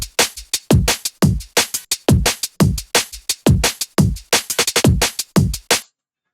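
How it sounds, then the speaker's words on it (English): A drum and bass drum beat sample plays alone: punchy kicks and crisp snares in a fast, syncopated pattern with hi-hat hits, running steadily for nearly six seconds before stopping abruptly. "I've taken a drum beat from the Patreon packs, which sounds like this"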